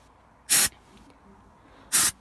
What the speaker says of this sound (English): So I'm just going to spray it to show you.